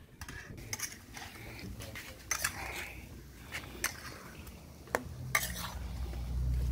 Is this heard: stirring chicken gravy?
yes